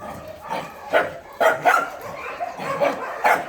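Many dogs bark and yip together at an animal shelter in Bečej, Serbia, a noisy overlapping chorus of repeated barks from several directions, fairly close and loud.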